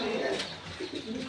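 Pigeons cooing at a breeder's loft, low throaty coos repeating in soft pulses over a steady background, no talk.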